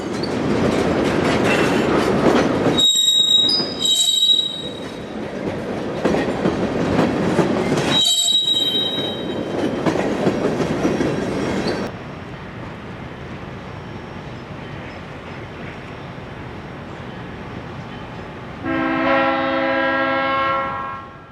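A freight train rolls past on the tracks in the Miami area, a loud steady rumble of railcars with wheel squeal and clatter, briefly broken, then fading to a distant hum before a horn-like tonal blast near the end.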